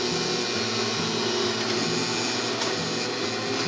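A sewing machine runs steadily, stitching down a fabric face mask pocket, its fast mechanical whir and rhythmic needle chatter continuous and close without any pauses or talk.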